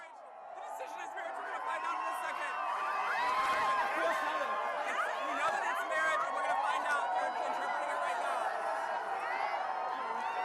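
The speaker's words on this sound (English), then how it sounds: "the crowd outside reacting when they first heard what the verdict, the 5-4 verdict was" Crowd outside the Supreme Court erupting over the 5-4 marriage equality verdict, distant sustained cheering, whoops and shouting blended into a continuous roar that swells and holds.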